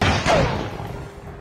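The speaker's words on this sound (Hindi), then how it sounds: "जिसके बाद वहां जोरदार धमाका हुआ और टैंक आग की लपटों में घिर गए।" A tank blown up by a rocket launcher on a street in Sumy during the Russia-Ukraine war makes a short, heavy explosive boom that rolls off into a rumbling decay, loud and close.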